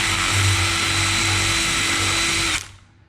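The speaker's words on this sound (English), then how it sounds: "I don't have the right size drill bit here with me, so I'm just opening this hole up" A power drill whines continuously at high speed for a few seconds while widening a hole in a Chevrolet Suburban or Tahoe, then cuts off abruptly and spins down into quiet.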